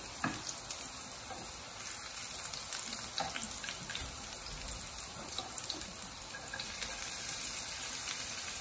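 Chopped onions and garlic frying in a pan, a steady broadband sizzle running throughout with scattered clinks and scrapes of stirring, close and moderately loud, no talk.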